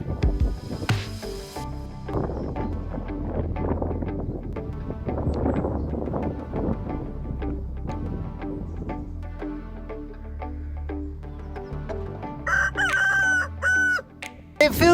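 Silkie chickens cluck and chatter on a farm with a cold wind blowing, then a rooster crows loudly near the end, the birds close and busy throughout.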